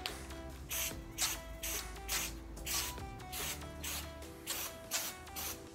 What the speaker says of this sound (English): This stuff does not spray like paint or undercoating at all.